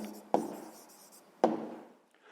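A pen scratches briefly on paper in two short strokes, each a crisp scrape that fades quickly, in a quiet room while an answer to a math problem is written down.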